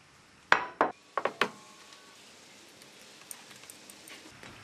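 A size 27 spanner clinks against metal while tightening actuator bushings with O-rings on an Alfa Laval Unique aseptic single seat valve: four or five sharp, close metallic taps in quick succession, then near silence.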